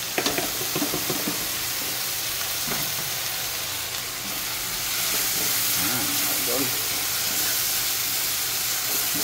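Shrimp paste sizzles in a pan with garlic, onion and softened tomato, a steady close frying hiss with faint stirring scrapes throughout.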